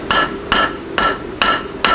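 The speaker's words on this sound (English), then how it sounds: "Now hammer that hump" A hammer strikes a knife blade on an anvil five times at an even pace, each blow a sharp, ringing metallic crack that fades before the next, close and loud.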